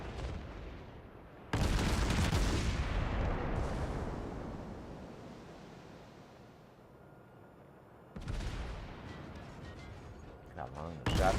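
Heavy naval gun salvos boom in a World of Warships battle between a Mogami cruiser and the battleship North Carolina, with loud blasts that roll off into long fading rumbles, one at the start and another later, under game noise.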